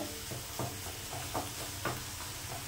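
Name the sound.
stirring bottle gourd with poppy seed paste in pan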